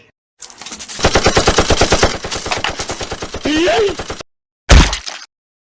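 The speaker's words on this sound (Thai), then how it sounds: "เตรียมตัวยิงมันอีกครั้งเลย" Rapid automatic gunfire blasts at a creature in an animated cartoon, a loud sustained burst of shots followed after a brief gap by one more short volley.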